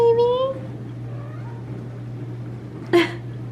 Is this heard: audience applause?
no